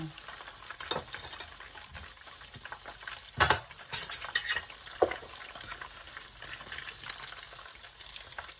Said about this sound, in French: je vais laisser aussi cuire le reste du poisson